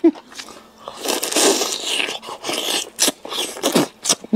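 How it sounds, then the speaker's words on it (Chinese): Someone eats a hand-held lamb chop, and close, loud bites and crunchy chewing come in irregular bursts. "这手把羊排必须用手拿着吃嘛"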